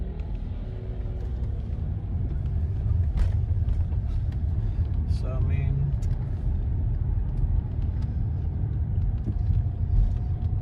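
A Jaguar S-Type heard from inside the cabin while driving, giving a steady low road rumble and engine drone that swells slightly partway through, with people talking over it.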